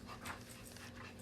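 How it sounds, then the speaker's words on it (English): A dog whimpers and pants in the background, quiet and close-ish, with soft rapid breaths and a brief whine in a short burst. "just pardon the dog noises in the background"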